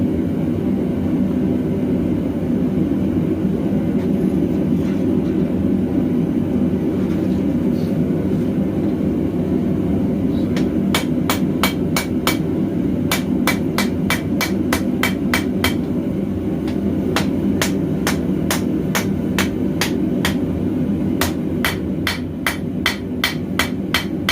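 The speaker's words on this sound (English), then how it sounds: "And that way I can hammer forward from there." Sharp metallic hammer strikes on steel ring out in quick bursts over a loud roaring forge blower while forging a clip-point knife blade, the blows coming in rapid rhythmic runs.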